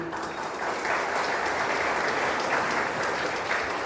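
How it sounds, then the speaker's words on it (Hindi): An audience at a spiritual gathering claps steadily, a full room of dense, even applause sustained at moderate loudness for several seconds without a break. "ताली बजाओ अच्छी तरह।"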